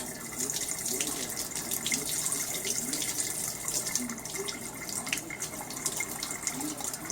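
Fresh tap water runs into a pot of peeled potatoes in a kitchen sink, a steady close gushing stream with faint background voices underneath.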